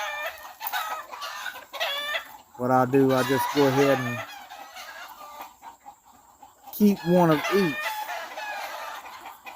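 Gamefowl hens cluck and a rooster crows in two loud bursts while a person talks over and between them.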